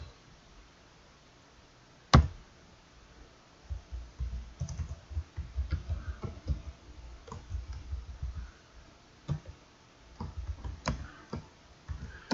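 Keys clack on a computer keyboard in uneven bursts, with one sharp louder tap early on and short pauses between runs of typing.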